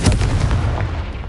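A Confringo fire spell bursts in a Harry Potter Hogwarts video game, a single close, heavy blast whose booming rumble fades away over about a second.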